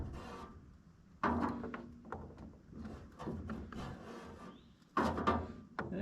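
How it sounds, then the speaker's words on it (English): Metal wrench working a fuel filter snug on a Massey Ferguson 245 diesel tractor, heard as several close scraping, rasping bursts of effort in uneven spurts with short pauses between. "Let's see if I can tighten this fuel filter up a little bit."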